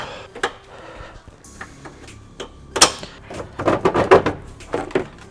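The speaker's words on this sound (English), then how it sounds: "there's a clip right here we're gonna go ahead and remove" A plastic clip being pried off a car air intake during a Skunk2 intake install, heard as sharp clicks, snaps and rattles of plastic and metal at close range, busier toward the end.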